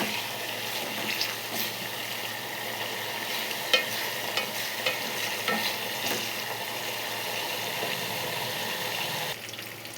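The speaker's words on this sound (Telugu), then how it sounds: "ఇలా కలుపుతూ ఉండాలి వీటిని." Curry leaves frying in oil for a homemade hair oil, hissing continuously while a spoon stirs and occasionally taps the vessel, close and fairly loud with no speech.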